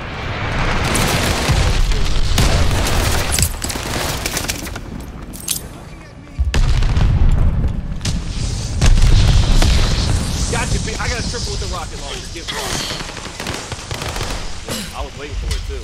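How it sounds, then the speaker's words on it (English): Glide bomb explosions and rapid gunfire in the multiplayer shooter Call of Duty: Vanguard, dense bursts of automatic fire and deep booming blasts, loud and close, with a player talking over the action. "Enemy glide bomb incoming."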